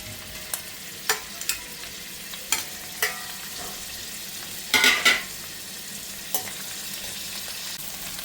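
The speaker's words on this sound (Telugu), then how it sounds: "మనం ఏం చేయాలంటే నెత్తల్లో ఒకసారి వేపుకోవాలి" Small fish (netthallu) sizzle in hot oil, a steady soft crackle broken by sharp louder spits and pops, one bigger burst of spattering near the middle, close and without speech.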